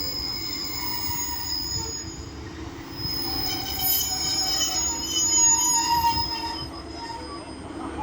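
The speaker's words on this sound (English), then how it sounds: "Now getting ready to depart is 15119 and her partner, working the delayed 1858 Northern service to Rochdale." Class 150 unit 15119 and its partner pull away on a Northern service to Rochdale, wheels squealing in thin high tones over a low rumble that swells and fades across the clip.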